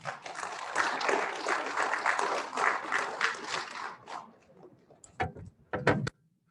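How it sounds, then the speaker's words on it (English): A school assembly crowd applauds in a thick, steady burst that fades after about four seconds, followed by a few scattered loud knocks or bumps and then silence. "One more round of applause for Jesse."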